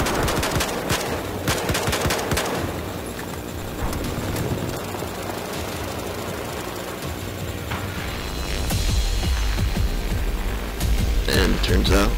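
Rapid machine-gun bursts and gunshots from the Battlefield 4 open beta video game, dense and loud throughout with overlapping volleys, and a voice talking over the fire.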